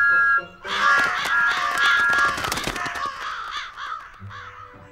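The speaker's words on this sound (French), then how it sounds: "À chaque fois qu'un corbeau a le malheur de s'approcher, il siffle pour le faire partir." Crows caw loudly over and over while Thomas the steam locomotive sounds his whistle to chase them from a farmer's field at night, the harsh calls and the whistle overlapping for most of the passage before fading.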